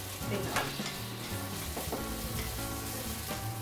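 Minced garlic hits a hot pan and sizzles steadily, with the scrape and clink of stirring layered over the frying hiss, close up and without speech.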